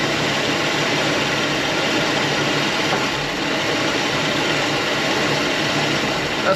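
A hot rod car engine runs steadily at close range, producing a smooth, continuous mid-to-low drone with no breaks or hesitation.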